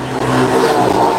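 Honda Vario scooter exhaust revving up close, a loud steady raspy engine drone held for about a second with a brief dip near the start.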